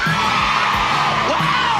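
A mixed audience, many of them women, cheers and whoops together in a loud, steady burst of crowd noise, with a few higher yells rising above the roar.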